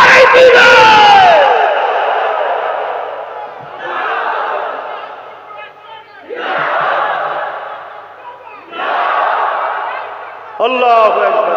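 At an Islamic sermon gathering, a large crowd chants Allahu Akbar in response to a takbir call, four loud unified roars in turn, each lasting about two seconds with short gaps between.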